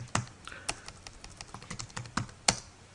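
Someone types a code comment on a computer keyboard: irregular, close, crisp keystrokes clatter in short clusters with small pauses, and one sharper key hit near the end. No one speaks.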